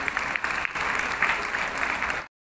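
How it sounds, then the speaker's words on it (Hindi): Loud, dense applause from an audience welcoming a speaker at an International Women's Day programme, clapping steadily for about two seconds before cutting off abruptly. "आइए जोरदार तालियों से आपका स्वागत करते हैं"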